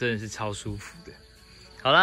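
Insects chirring at night outside a countryside guesthouse in Yilan, a steady high thin drone running through the whole clip, mostly underneath people talking nearby.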